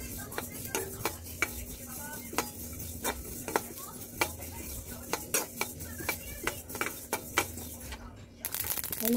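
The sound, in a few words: coriander seeds being dry-roasted and stirred in a pan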